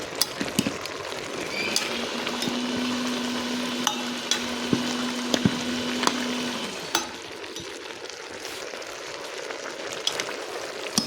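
Tomatoes and tamarind cooking down in a pan for tomato pickle, a steady sizzle with scattered stirring clicks and scrapes running throughout, easing slightly near the end.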